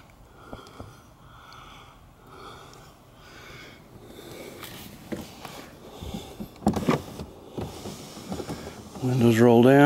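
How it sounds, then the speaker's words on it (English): The windows of a 1951 Ford Custom are rolled down, giving intermittent squeaks, rubbing and mechanical clunks that grow louder toward the end. "Windows roll down."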